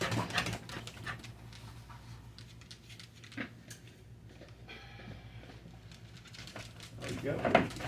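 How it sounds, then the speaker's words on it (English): Excited puppies whimper, whine and pant in a home kitchen, with high yelps and scrabbling near the start and end and a person talking over them. "The puppies are excited."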